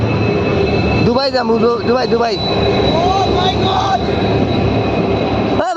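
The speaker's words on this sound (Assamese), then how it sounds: "ট্ৰেইন আহি গ'ল এইটো চাওক" A train rolls in with rumbling wheels and brief squealing tones, loud and close, while people talk and chant over it.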